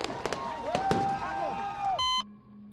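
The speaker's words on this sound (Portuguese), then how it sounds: "Fogos de artifício explodiram após a captura do homem mais procurado dos últimos 20 dias." Fireworks burst and whistle after a manhunt capture in Brazil, with scattered sharp pops and rising whistles at a moderate distance, followed by a short electronic beep.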